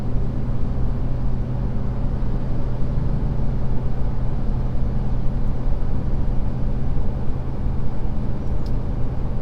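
A Cummins diesel pickup towing a heavy trailer of about 25,000 lb gross uphill in fifth gear at around 1900 RPM, with a steady, loud, low engine drone heard from the cab under constant road noise and no talk.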